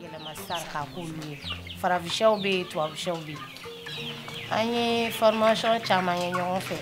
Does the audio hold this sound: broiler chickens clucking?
yes